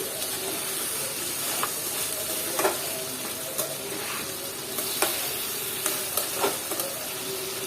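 Mixed vegetables with bitter gourd stir-frying in a pan, a continuous sizzle overlaid by scattered spatula scrapes and taps, close and moderately loud.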